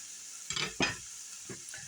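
Softening onion sautéing in a pan, a quiet background sizzle punctuated by a few short stirring scrapes of a utensil.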